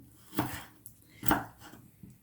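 Two sharp knife chops strike a cutting board about a second apart, crisp and close, with quiet pauses between them, as frozen lamb tail fat is finely chopped.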